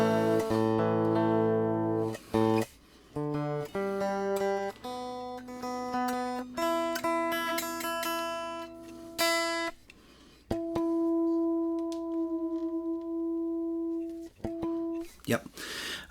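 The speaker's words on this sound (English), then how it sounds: "So this is the sound of this guitar, hopefully in tune." Epiphone Les Paul electric guitar played clean through a Sunrise amp simulator with no effects, picking single notes and short chords that ring and decay, then a few held notes near the end, close and fairly quiet.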